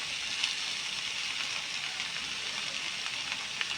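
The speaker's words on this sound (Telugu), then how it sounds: "మొత్తం ఒకసారి మిక్స్ చేసుకుని ఇది ఇలా లో ఫ్లేమ్లో ఇంకా ఫ్రై అవ్వడమే" Onions and spices with salt, red chilli powder and ginger-garlic paste frying in a pan over a low flame, giving a steady, soft broadband sizzle that runs the whole time with no voices.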